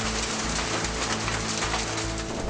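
Heavy rain pouring at the Himalayan pilgrimage site of Kedarnath, a loud, unbroken hiss of downpour on surfaces with a low rumble beneath, and no voices.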